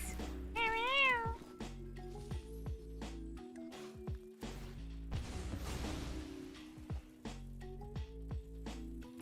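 A video game cat meows once early on, a clear rising and falling cry, surrounded by clicky game effects, whooshes and a sizzling burst in a digital card battle.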